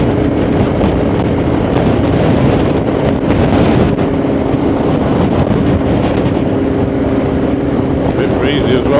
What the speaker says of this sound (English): feel the wind coming from inland going out